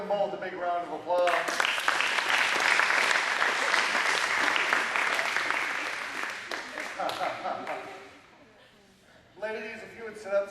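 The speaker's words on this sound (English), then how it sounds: "All right, give them both a big round of applause." A burst of audience applause at an after-prom hypnotist show in St. John, Kansas swells in over a talking voice, holds strong for several seconds, then fades out before speech resumes.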